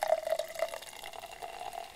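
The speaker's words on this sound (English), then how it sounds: "So, blood orange mint. I'll just pour this one right away." Blood orange mint JuneShine poured from a can into a glass, a steady near liquid stream with a brief gurgle at the start, then a continuous trickling fill with no talking.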